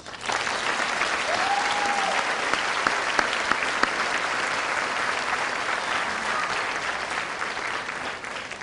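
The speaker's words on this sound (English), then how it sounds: "let's give them a warm round of applause" Audience at a high school graduation ceremony applauding, a dense, sustained wash of clapping from a large crowd in a big hall, with a few sharper individual claps and one brief whistle early on.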